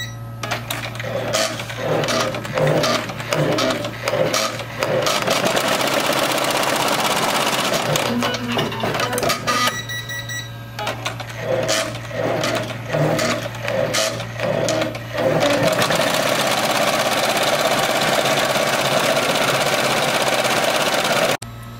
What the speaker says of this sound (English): I'm gonna hit the green button and it's gonna start embroidering.